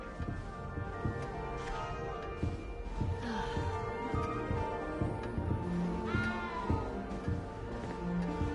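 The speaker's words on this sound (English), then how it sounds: "You don't need to be frightened, little cat." A small cat meows in Hogwarts Legacy, a few short cries rising over a busy game soundtrack of music and ambient noise.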